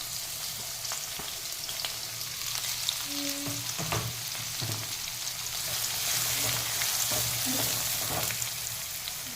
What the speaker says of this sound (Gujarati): તો પહેલાં હું ડુંગળી અને ગાજરને પહેલાં શેકીશ.